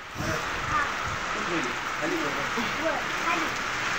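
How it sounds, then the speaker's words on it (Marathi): A steady, dense wash of heavy rain in gusty wind at a farmstead, continuous and fairly close, with faint voices mixed underneath. "चांगलाच पाऊस आलाय आता पलीकडून,"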